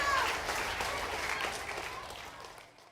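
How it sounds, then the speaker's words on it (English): Applause from a group in a classroom on a mobile dairy farm visit, a dense burst of clapping that starts loud and gradually thins and fades out over about three seconds. "Let's give a round of applause today to Miss Mabel for making that milk for us here."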